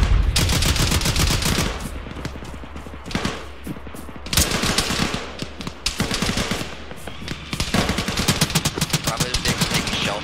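Heavy gunfire in Arma 3, rapid bursts and repeated shots crackling close and loud through the whole stretch, with radio-style talk faintly underneath.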